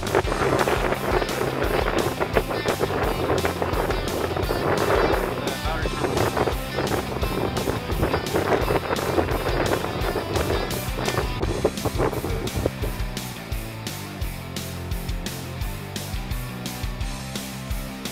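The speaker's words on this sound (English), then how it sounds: "Starts up that 6-liter V8 like nothing." A Hummer's 6-liter V8 runs as a loud, steady, rumbling drone that fills the clip, with gusty wind buffeting over it throughout.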